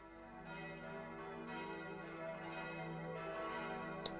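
Church bells of Notre Dame peal in a film scene, several strikes ringing in slow succession and sustaining with rich overlapping tones, steady and moderately loud with no talk.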